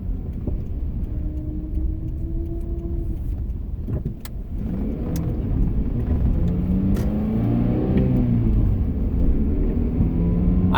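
A 2004 Toyota RAV4 with 150k miles gets hard throttle, its engine rumbling steadily from inside the cabin before revving up and climbing in pitch over the second half.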